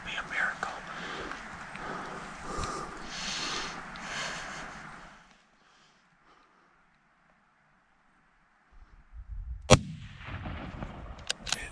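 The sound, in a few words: long-range rifle shot while hunting in Wyoming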